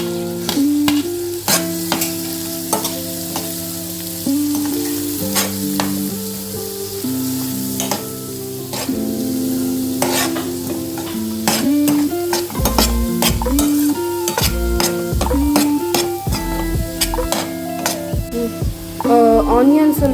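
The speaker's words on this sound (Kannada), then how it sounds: "ಆನಿಯನ್ಸ್ ಮತ್ತು ಗ್ರೀನ್ ಚಿಲ್ಲಿ ನಾವು ಒಟ್ಟಿಗೆ ಫ್ರೈ ಮಾಡುವ." Onions and green chilli sizzle and fry in hot oil in a home kitchen for egg masala, a steady crackle broken by repeated scrapes and clinks of a spoon stirring against the pan.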